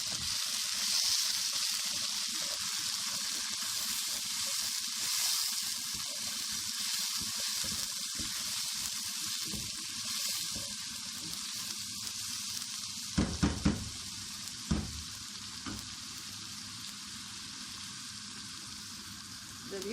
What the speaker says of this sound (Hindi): लहसुन को फ्राई कर देंगे।